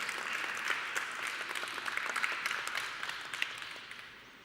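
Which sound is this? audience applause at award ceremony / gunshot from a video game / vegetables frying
audience applause at award ceremony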